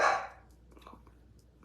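A single bark from a dog indoors sounds at the start and quickly fades. Quiet room tone and faint small sounds follow.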